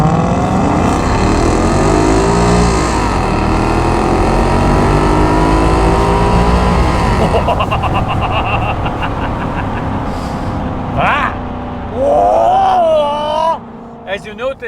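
A Maserati Quattroporte with a ZF automatic gearbox revs loudly and close by, its engine note rising and falling through sluggish, slow gear changes, with a voice talking near the end.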